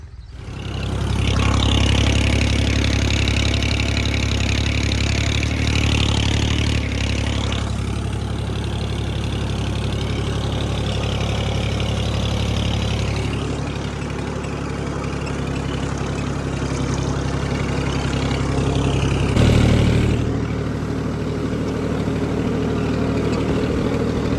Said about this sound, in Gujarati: હળો ફટાફટ ટ્રેક્ટર ચાલુ કરી દઈએ